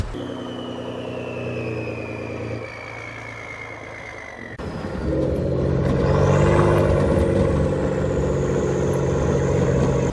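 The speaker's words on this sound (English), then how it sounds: "the straight pipe on these trucks sounds crazy. You guys can hear the turbo noise and everything." A 2013 Ford F-150 EcoBoost with a straight-pipe exhaust idles with a whining turbo, then revs up into a louder, deeper rumble as the turbo whistle rises and holds.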